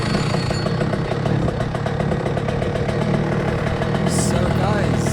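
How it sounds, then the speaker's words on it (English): An unrestricted Senior Rotax go-kart engine roars steadily on track at Rye House, a loud, close, continuous buzzing drone with rapid rhythmic pulsing throughout. "Currently driving a Senior Rotax for the first time, completely unrestricted."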